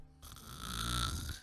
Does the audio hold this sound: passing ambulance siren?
no